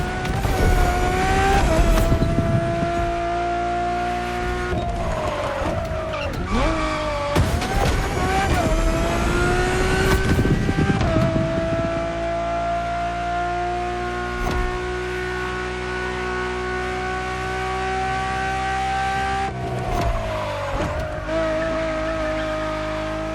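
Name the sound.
Ferrari road-legal Formula One supercar engine revving, video game The Crew Motorfest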